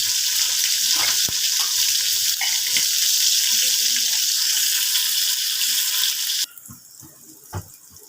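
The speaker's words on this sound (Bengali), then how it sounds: "তিতার ডাল করবার জন্য করলাগুলোকে ভেজেছি, এগুলোকে এখন তুলে নিচ্ছি।" Bitter gourd pieces fry in hot oil with salt and turmeric, giving a loud, steady sizzle for about six seconds. It then drops away to near quiet with a few soft knocks.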